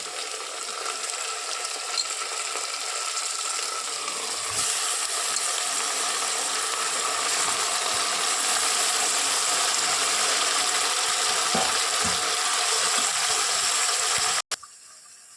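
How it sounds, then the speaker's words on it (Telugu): Cleaned mutton pieces hitting a pan of browned fried onions for a mutton curry, giving a steady close sizzle and frying hiss throughout with some clattering, ending in a sharp knock. "ఇప్పుడు మనము క్లీన్ చేసి పెట్టుకున్నటువంటి మటన్ని ఇందులోనికి వేసేసుకోవాలి."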